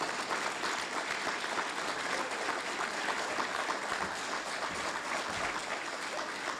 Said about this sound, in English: Thunderous applause at least to acknowledge